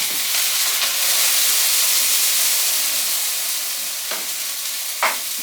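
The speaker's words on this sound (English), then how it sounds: "Oh no, it's boiling over." A pot boiling over on a kitchen stove while making Brazilian cheese bread, giving a loud continuous sizzling hiss that holds steady throughout, with a couple of brief clanks near the end.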